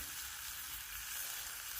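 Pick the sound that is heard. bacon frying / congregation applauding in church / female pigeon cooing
bacon frying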